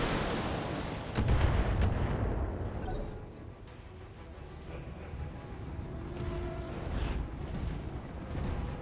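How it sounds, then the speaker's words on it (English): Mech weapons firing and exploding in BattleTech: a deep rumbling barrage with a louder blast early on, then scattered muffled impacts and booms at moderate distance. "All weapons fire."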